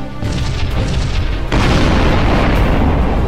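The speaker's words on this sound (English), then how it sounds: "Kaboom." Enemy ship blowing up in the space strategy game Sunrider, a heavy booming explosion that rumbles on, then a second louder blast midway that keeps roaring to the end.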